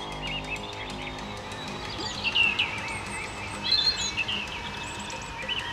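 Birdsong in a Spanish-language audio drama set at an emperor's court in the morning: a steady bed of chirping with two brighter bursts of trilling calls midway and later, moderately loud with no talking.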